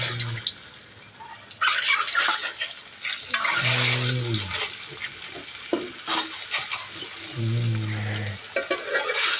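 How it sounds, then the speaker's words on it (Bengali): Eggs drop into hot oil with turmeric in a wok and sizzle, with stirring and splashing over a steady frying hiss. Tonal clanks sound now and then. "এবার আমি একে একে এই তেলের ভিতরে ডিমগুলো দিয়ে দিব।"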